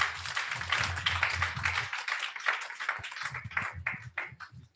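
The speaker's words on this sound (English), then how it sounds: "So please, can you all give yourselves a round of applause?" Audience at a women's conference clapping, a loose, moderately quiet patter of hands, with a low hum and some taps mixed in.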